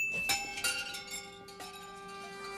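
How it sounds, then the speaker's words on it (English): Wind chimes ring in Jabba's palace in Return of the Jedi, a few soft metallic strikes with clear lingering tones overlapping and fading, faint and alone. "Why does Jabba have wind chimes in a place where there is rarely wind?"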